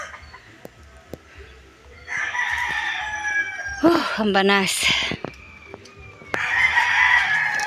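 Chickens cluck and squawk nearby, with a rooster-like crow in the middle and a short spoken remark amid the birds.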